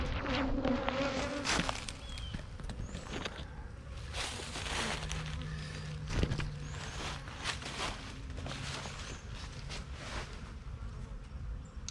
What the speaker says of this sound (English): Lots of bees in this colony.